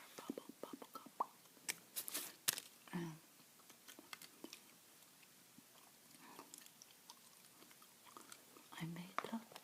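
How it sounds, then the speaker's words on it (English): Someone chews Super bubble gum close to the microphone, with wet, sticky smacking and occasional snapping, soft and irregular, alongside quiet whispered talk. "that's the bubble gum I'm chewing"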